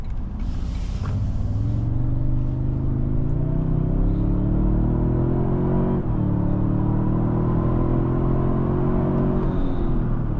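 A 2025 Toyota Sequoia TRD Pro hybrid SUV accelerates hard, its synthesized engine note rising in a smooth climbing drone, dipping once at a shift and then climbing again, loud and steady from inside the cabin.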